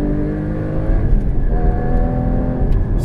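A Porsche Cayman GT4 engine on a racetrack, loud and close, with a continuous rising and falling engine note as the car pulls through the revs, no talking.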